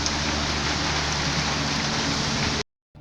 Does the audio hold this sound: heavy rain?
yes